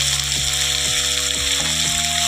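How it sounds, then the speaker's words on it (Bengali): Bay leaf and five-spice seeds fry in hot oil in a pan for a prawn curry, with a steady, close sizzle and a few soft scrapes of stirring. "তেজপাতা, দেখো ভালো করে কষিয়ে নেব"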